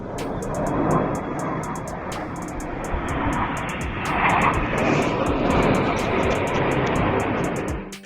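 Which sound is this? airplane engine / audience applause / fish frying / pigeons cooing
airplane engine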